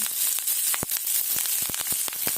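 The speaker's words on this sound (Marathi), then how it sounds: "कमी तेलातच पत्ता व्यवस्थित भाजून घ्यायचा" Curry leaves roast in a spoonful of oil for a peanut and curry leaf chutney, giving a steady close hiss broken by sharp crackles and pops throughout, with no talking.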